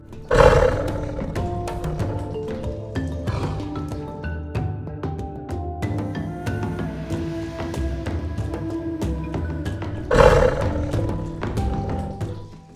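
Tiger roaring, with two deep, loud, close roars at the start and end, separated by a long stretch of lower rumbling growls and rhythmic chuffing.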